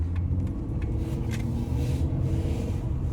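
A constant low rumble of a used car on a test drive, with road and engine noise holding steady and a few light clicks inside the cabin.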